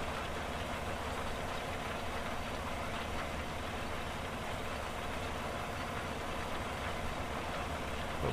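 Roughly 500-horsepower tractor in Farming Simulator 17 pulling a 4-meter combination drill, a constant heavy engine drone with a rumbling low knock, steady and unbroken throughout.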